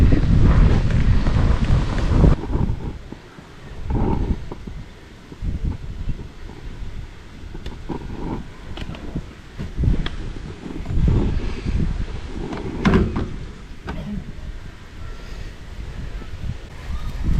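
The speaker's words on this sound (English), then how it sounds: "It's pretty windy here again this morning, as you can hear" Strong gusty wind at a coastal campsite near Onslow or Coral Bay, loud roaring buffets against the microphone that rise and fall in waves, with a gas burner and pan faintly underneath.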